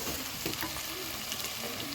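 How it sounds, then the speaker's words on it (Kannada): Chopped onions with salt frying and being stirred in a hot pan at home, a soft, even crackling sizzle with small spatters, fairly quiet and alone. "ಸ್ವಲ್ಪ ಸಾಲ್ಟ್ ಹಾಕಿದ್ರೆ ಸ್ವಲ್ಪ ಆನಿಯನ್ ಸ್ವಲ್ಪ ಬೇಗ ಫ್ರೈ ಆಗುತ್ತೆ"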